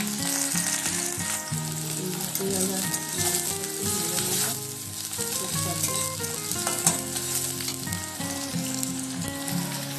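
Onion and green chili sizzling in a pan while frying for a vegetable pasta, a continuous loud hiss that sits under steady music.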